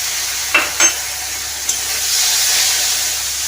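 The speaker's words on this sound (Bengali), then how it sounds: "মশলাটাকে ভালোভাবে কষিয়ে নিচ্ছি" A spice paste with garam masala, chilli powder and a little water being fried and stirred in a pan for a Bengali potol dorma, giving a steady loud sizzle with a couple of brief scraping stirs near the start.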